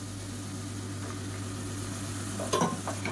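Tomato, carrot, potato and beans sauté in a pan with a quiet, steady sizzle over a low constant hum, followed by a brief stirring scrape near the end.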